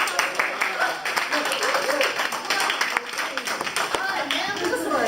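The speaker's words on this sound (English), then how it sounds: "Applause, applause." A small group claps in a steady burst of applause, fairly close, with talking and chatter running over the clapping.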